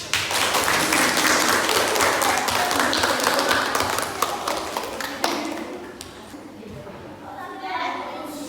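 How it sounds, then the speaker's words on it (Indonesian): A classroom of students claps at the end of a chemistry lesson, a dense burst of sharp individual hand claps that thins out and tapers off, followed by faint murmuring voices. "Oke, bisa beri tepuk tangan"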